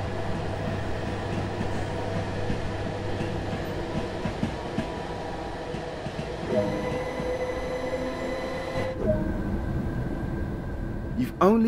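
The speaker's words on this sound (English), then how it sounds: "Gatwick Express Class 387 electric multiple unit and consists of 8 cars" A Train Sim World 2 Gatwick Express Class 387 eight-car electric multiple unit runs steadily with a low hum and a tonal motor whine, with occasional clicks and a brief squeal near the end.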